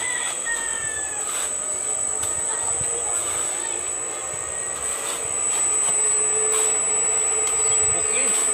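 A gear-driven self-powered generator runs with a steady mechanical drone and a high whine, growing slightly louder toward the end, while someone talks faintly over it.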